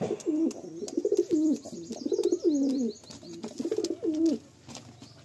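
Red-plumaged pigeons in a loft in Baruipur coo close by, with low throaty rolling calls repeated in steady overlapping bursts for several seconds.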